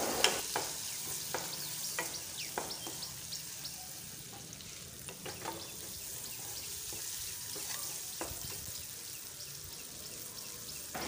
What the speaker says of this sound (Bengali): তারপর সমস্ত কিছু ভালো করে খুন্তি দিয়ে মিক্স করে নেব